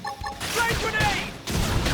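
A flame grenade bursts in the Xenoblade Chronicles X video game as a brief, crackling blast amid combat effects, with a voice shouting over it.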